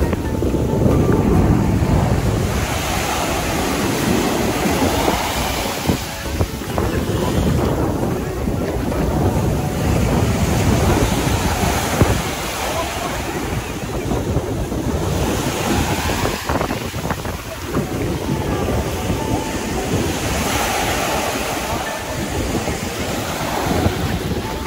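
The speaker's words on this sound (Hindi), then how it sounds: "बहुत बड़े बड़े वेव्स आ रहे हैं।" Big ocean waves surge and break at La Mer Beach in Dubai, a steady roar of surf with gusts of wind buffeting the microphone throughout, loud and close with no pause.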